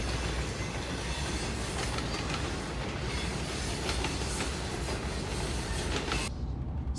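CSX freight train with distributed power units rolling past on the Monon Subdivision, a loud continuous rumble with rhythmic clickety-clack of wheels and faint wheel squeal, close by and with no talk.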